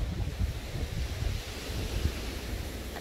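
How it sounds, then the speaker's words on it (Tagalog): Cold mountain wind in Pangasinan rushes and buffets the microphone in a steady low roar with gusty surges, no voices over it. "hangin yung naririnig nyo. Hangin."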